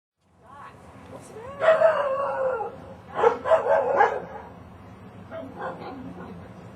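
Several dogs howl together in long, wavering, tuneful cries, rising in two main loud bursts and then trailing off into quieter whines, close to the listener.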